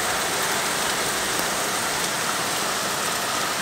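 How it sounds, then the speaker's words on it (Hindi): Heavy monsoon rain pours down in a constant, loud, dense hiss of drops striking surfaces, unbroken and close throughout, with no talking. "फिर भी इतनी बारिश हो रही है"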